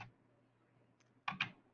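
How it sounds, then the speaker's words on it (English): Typing on a computer keyboard in a quiet room, a faint tap or two followed by a pair of louder, crisper key clicks close by near the end, with no talking. "Then I'm going to type something in here."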